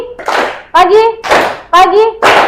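In a fifth-grade classroom, children chant a rhythmic call-and-response clapping game, with loud bursts of young voices alternating with sharp hand claps in a regular pattern.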